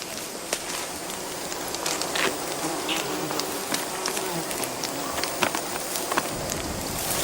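A swarm of honey bees hums in a constant drone, with scattered crackles and brief louder buzzes passing close by.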